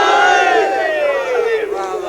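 A large crowd at a religious gathering honoring Hussain and Abbas shouts the Haidari slogan in unison, one loud sustained collective cry that trails off.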